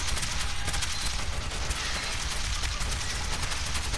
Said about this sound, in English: Who the fuck is shooting?